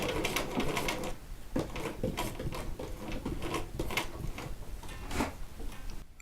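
A hand-cranked sewing machine stitches quilt triangles together in a rapid, rhythmic clatter of needle and mechanism, with short pauses between bursts, heard up close.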